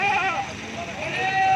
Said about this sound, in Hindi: ये देखिए माशाल्लाह सभी भारे बकरे हैं।